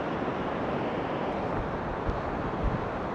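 Waterfall at Si Phan Don in Laos, heard as a steady, broadband roar of rushing water that fills the whole clip with no pauses, with a little wind buffeting the microphone.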